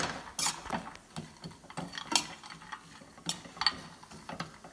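Lavender caramelized almonds stirred in a pan, a quiet, continuous rattle of nuts and spoon scraping with irregular clicks and clinks, close but soft, no speech.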